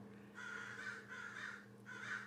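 Three hoarse raven caws in a slow, evenly spaced sequence, each drawn out and fairly close, over a low steady hum.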